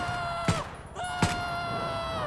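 Two sharp gunshots about a second apart fired at a zombie in GTA V, heard over a loud, sustained tonal wail that drones on throughout.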